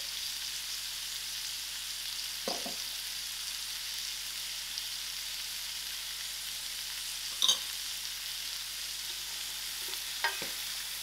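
Potatoes with peas frying in masala for a pilchard and potato curry give a steady, soft sizzle throughout, with a few brief stirring scrapes against the pan.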